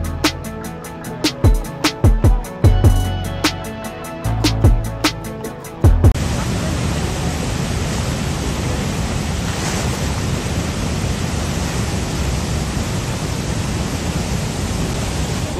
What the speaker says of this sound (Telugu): వాటర్ ఫాల్స్ అండ్ ఇది మన తెలంగాణలోనే ఉంది. వాటర్ చూస్తే చాలా ఇంట్రెస్టింగ్ గా ఉంది.